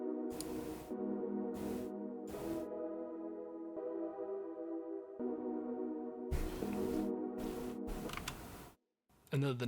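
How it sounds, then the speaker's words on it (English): Synth pad built from a detuned saw wave with reverb and a long pluck: a sustained, harmonically rich tone with swelling bright bursts, moderately quiet and heard alone, fading briefly near the end. "The next thing that I added was this little saw wave thing that I made."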